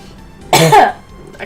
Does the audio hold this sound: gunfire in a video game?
no